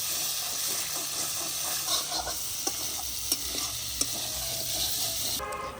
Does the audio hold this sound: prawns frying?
yes